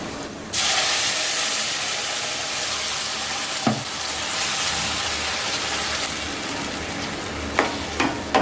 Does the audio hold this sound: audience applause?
no